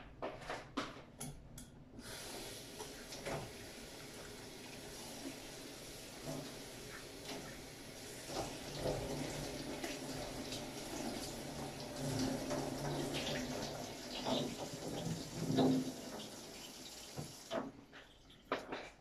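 Tap water runs quietly for a long stretch while a pineapple is washed at a sink, with soft splashing and rubbing throughout and a few louder clatters at the start and end.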